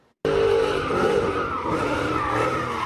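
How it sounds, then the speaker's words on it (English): A black Dodge Charger skids with a sustained, loud tire screech and engine roar during a street takeover, the noise starting abruptly and continuing steadily throughout. "The video captures the moment a black Dodge Charger loses control and crashes into a group of spectators"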